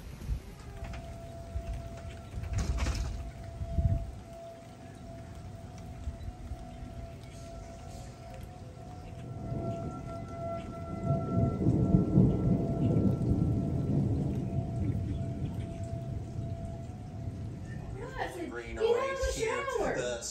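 A thunderstorm during fence work: steady rain falling with low thunder rumbling, a louder roll building through the middle, and a person briefly talking near the end.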